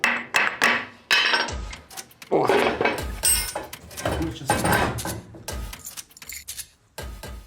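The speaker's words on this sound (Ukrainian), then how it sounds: "Без зубила молотка не обійдеться." Sharp metallic hammer blows strike a chisel while dismantling metal parts of an old sewing machine, an irregular series of loud, close clanks and clinks, with brief pauses between bursts.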